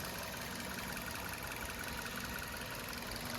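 The engine of a 2017 Maruti Suzuki Nexa Baleno Zeta runs at a steady idle, a faint, even hum and rumble from close by with no voices over it.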